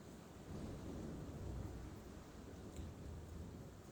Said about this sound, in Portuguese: Tá caindo um torozão aqui.